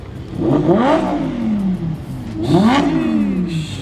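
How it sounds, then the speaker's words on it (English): Lamborghini and Porsche sports cars pulling up, with two loud, close engine revs rising and falling a couple of seconds apart. "Bunch of Lambos and Porsches just pulled up."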